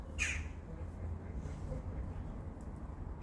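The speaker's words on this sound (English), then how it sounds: "Ah, it's a crow." A single harsh crow caw rings out near the start, fairly close, followed by quiet outdoor background.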